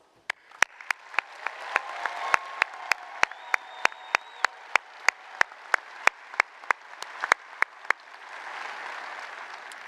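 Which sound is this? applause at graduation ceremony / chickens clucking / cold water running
applause at graduation ceremony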